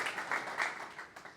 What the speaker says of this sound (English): A huge round of applause again for everyone that's involved with tim.js.